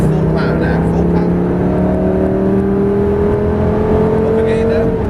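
Lamborghini Gallardo E-gear engine pulling hard at full power on a driving-experience track, a loud sustained drone rising steadily in pitch as it accelerates, heard from inside the car with faint voices underneath.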